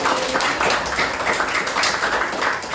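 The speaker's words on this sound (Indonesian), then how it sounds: "Beri tepuk tangan sekali lagi untuk diri kalian" A group of students applaud themselves after a judged performance, a sustained, fairly even wash of many hands clapping indoors, with no clear speech over it.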